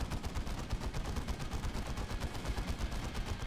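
Rapid automatic gunfire from a weapon in a Warhammer 40k mod video game, a loud close stream of dense shots at a fast steady rhythm, heard alone with no talking.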